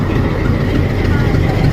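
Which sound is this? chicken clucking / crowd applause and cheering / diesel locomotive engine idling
diesel locomotive engine idling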